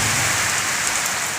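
Heavy rain pours steadily over a groundnut field in wind, a dense unbroken hiss of drops at close range with no talking.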